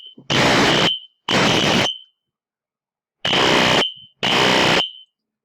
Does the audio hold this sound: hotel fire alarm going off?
yes